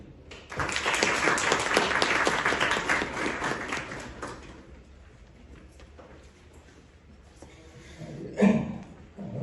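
Audience applause welcomes a guest speaker at an engineering career lecture, a dense burst of clapping from a crowd filling the first few seconds, then fading to quiet room tone with a brief thump near the end.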